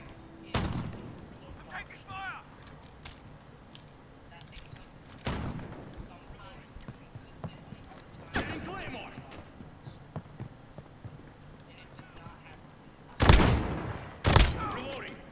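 Sniper rifle shots from an Olympia with a scope in a Modern Warfare 2v2 match, heard as a few sharp, loud bangs spread through the clip, the last two close together, with players talking over the game sounds.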